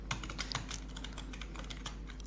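Fingers type on a computer keyboard while coding, producing quick, irregular clicks and key taps, close and fairly crisp over a low steady hum, with no talking.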